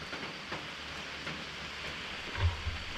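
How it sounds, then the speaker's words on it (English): Steady rain falls in a canyon during a thunderstorm, a dense, even hiss throughout with a couple of low thumps near the end. "But look at all that rain."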